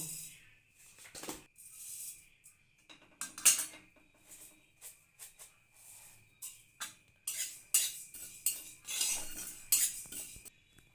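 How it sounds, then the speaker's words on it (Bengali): A metal spoon stirs bay leaf and five-spice tempering in a kadai with intermittent scraping and sharp clinks against the pan, close and fairly quiet, with no one speaking. "তেজপাতা পাঁচ ফোড়ন দিয়ে একটু নাড়াচাড়া করে নামিয়ে নেবো"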